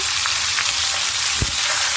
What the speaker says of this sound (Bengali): মাছগুলো ভাজা হচ্ছে এখন আমি এর সাথে কিছু পেঁয়াজ আর কাঁচামরিচ দিয়ে দেবো